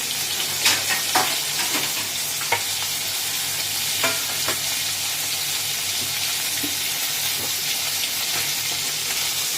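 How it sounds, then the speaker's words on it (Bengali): Fish fries in hot oil, a dense, loud, continuous sizzle with scattered sharp pops and crackles throughout, close to the pan and free of any talking. "দেখো মাছটা ভাজা হয়ে এসছে"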